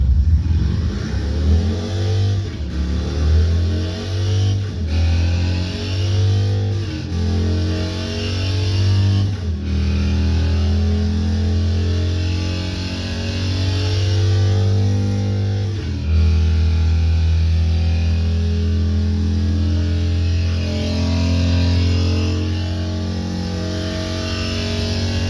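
Loud, steady buzzing drone from a prank vibration device, a constant low hum running for the whole stretch with slight pitch shifts and brief dips, close and alone with no talking.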